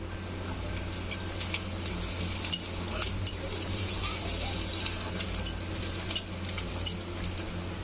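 Curry leaves dropped into hot oil in a pan while cooking masala bhindi give a steady, close sizzle and crackle, with occasional light clinks of stirring against the pan.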